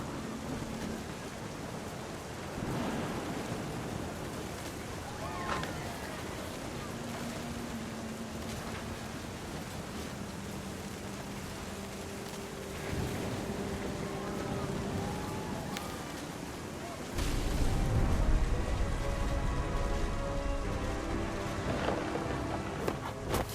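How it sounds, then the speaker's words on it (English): A thunderstorm with steady rain in What Remains of Edith Finch hisses throughout, joined by distant rolling thunder, then a loud close thunderclap swells near the end, with faint music tones beneath. "The thunder sounded much too close and full of angry power"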